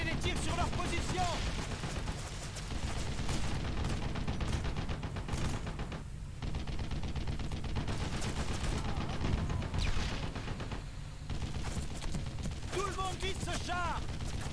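Heavy continuous gunfire from Brothers in Arms: Road to Hill 30, with overlapping rifle and machine-gun bursts filling the whole stretch, loud and close, while soldiers' voices call out over the fighting.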